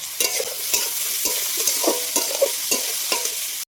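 Chopped pointed gourd frying with salt and turmeric in a pan, a loud continuous sizzle broken by regular scraping stirs of a spatula, close and without speech.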